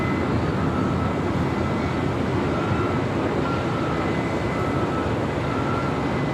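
A Hawaiian Airlines Airbus A330-200 takes off at LAX, its jet engines producing a continuous broadband roar that holds steady and loud throughout with no voices over it.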